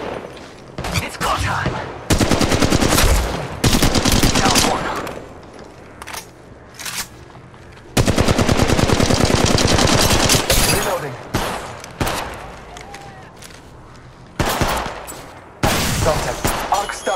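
Apex Legends Mobile gunfire rattles in repeated bursts of rapid automatic shots, loud and close, separated by short pauses, with a few single cracks between volleys.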